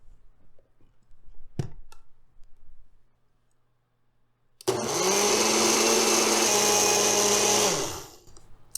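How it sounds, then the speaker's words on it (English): A blender whirs loudly and steadily for about three and a half seconds, mixing a Dutch baby batter of milk, eggs, flour and sugar, then cuts off. A quiet stretch with a single click comes before it. "I'm going to put the lid back on and I'm going to blend it for 45 more seconds"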